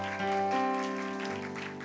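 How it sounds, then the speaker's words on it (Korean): A church congregation applauds during a worship service, a steady wash of clapping blended with sustained music tones for about two seconds. "Let's give a applause of glory to God."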